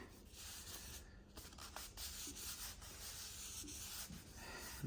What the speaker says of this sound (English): I'm just gonna wipe it down and call it good for today